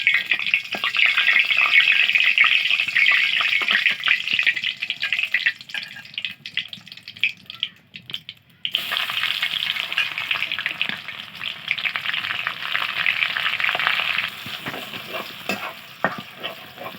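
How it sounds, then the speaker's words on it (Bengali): Garlic frying in a pan on a clay stove, with a steady close sizzle and occasional stirring scrapes running continuously, briefly dropping out in the middle before resuming. "রসুনটা একটু যখন লাল হয়ে যাবে তখন শাকগুলো দিয়ে দিবে।"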